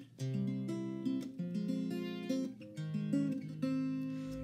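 Acoustic guitar fingerpicking the repeating pattern from a song, a steady flowing stream of plucked notes over shifting bass, moderately quiet with no voices.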